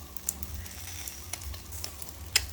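Catfish grilling sizzles in a soft, steady hiss with scattered small crackles and pops, one louder snap near the end.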